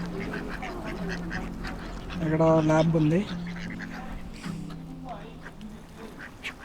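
Ducks being fed by people at Queens Park in Chester, UK, with one loud, nasal quack rising mid-clip over soft outdoor ambience while someone talks nearby.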